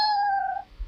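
A single short cat meow, a clear tonal cry that holds and fades within under a second, close to the microphone with nothing else around it.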